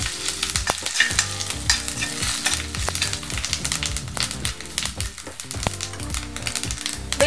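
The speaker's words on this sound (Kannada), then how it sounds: "ಒಂದು ಟೀ ಸ್ಪೂನ್ನಷ್ಟು ಜೀರಿಗೆ, ಹಾಗೆ ಸ್ವಲ್ಪ ಕರಿಬೇವು, ಇದನ್ನು ಹಾಕಿ ಸರಿ ಫ್ರೈ ಆದಮೇಲೆ" Cumin seeds and curry leaves fry in hot oil for a Konkani dal, giving a loud, close, crackling sizzle full of rapid pops and spatters over a stirring scrape, with no talking.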